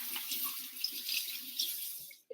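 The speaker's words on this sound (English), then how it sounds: "let me wash my hands" Hands being washed under a running kitchen tap, a steady soft hiss of flowing water with light splashing and rubbing, close and fairly quiet, stopping abruptly near the end.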